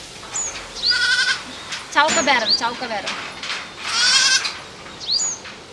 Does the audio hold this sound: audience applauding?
no